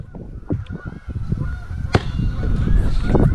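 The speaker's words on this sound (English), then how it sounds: "Oh, this scared the birds away." Geese honk outdoors, loud and close, in a burst of harsh, overlapping calls with one sharp honk standing out, over wind and rustling noise.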